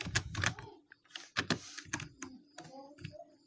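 A router configuration command is typed on a computer keyboard in clusters of quick, close key clicks with short pauses between them, and a faint voice is heard in places.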